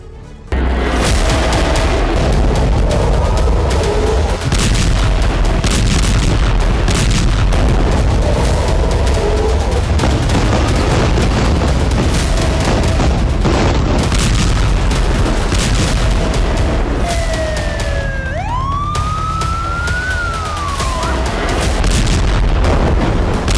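Bomb explosions from Israeli military strikes in Gaza, heard as a loud, continuous roar of booming blasts that barely lets up, with a whistling tone sliding up and down near the end.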